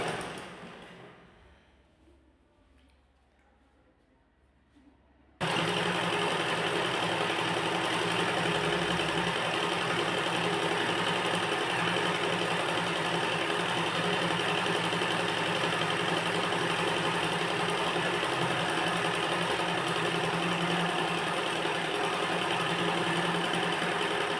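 After a few quiet seconds, a sewing machine starts stitching a ladies' trouser and runs in a fast, steady, loud whir without pause.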